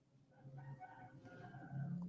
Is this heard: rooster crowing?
yes